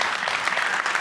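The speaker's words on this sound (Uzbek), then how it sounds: "Qarsaklaringiz." Studio audience at a comedy quiz show breaking into loud, dense applause, steady clapping from many hands filling the room, close and continuous.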